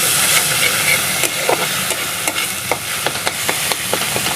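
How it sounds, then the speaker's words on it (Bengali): Okra and prawns stir-fried in a pan, a steady loud sizzle and hiss with repeated scraping strokes of a spatula through the frying. "খুব ভালো করে কষিয়ে নিতে হবে"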